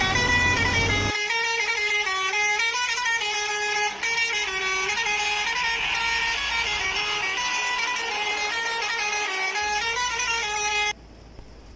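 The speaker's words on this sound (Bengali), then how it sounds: "হর্ন বাজাতে বাজাতে চলে এলাম" A bus travelling fast on the road from Tarakeswar toward Phulkusma sounds its loud musical horn almost nonstop for about ten seconds, the multi-tone blare wavering in pitch over engine and road noise before cutting off.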